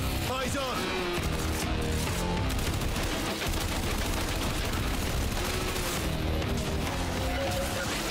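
AK rifle firing in the Warframe video game's 1999 demo, dense rapid bursts of automatic gunfire, loud and continuous, with music and someone talking underneath.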